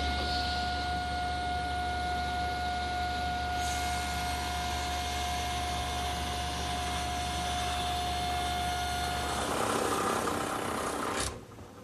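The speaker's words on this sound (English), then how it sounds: "I can place that edge against my fence to rip the rail to the correct width" Table saw running steadily while ripping a curved rail to width, a constant close motor whine with a sustained hum that shifts near the end as the cut finishes, then stops.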